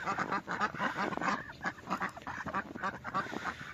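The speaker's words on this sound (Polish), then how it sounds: "Zachciało się kaczek." Ducks on a farm field quack in a dense, busy chorus of overlapping calls, close and continuous.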